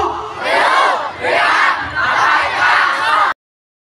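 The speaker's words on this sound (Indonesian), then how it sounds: "ini adalah kerumunan massa ya" A large crowd at a pro-Palestine rally chants in loud, rhythmic unison, four surging shouted phrases, each rising and falling, close and filling the space until they stop abruptly.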